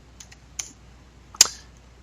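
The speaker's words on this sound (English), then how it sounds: "I'm just going to type them out." A few sparse keystrokes tap on a computer keyboard as terminal commands are entered, close and quiet, with one sharper click near the end.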